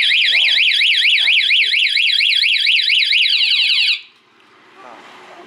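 An anti-theft alarm on a Honda MSX motorcycle blares a loud, rapidly warbling electronic siren for about four seconds, then cuts off and leaves faint background sound.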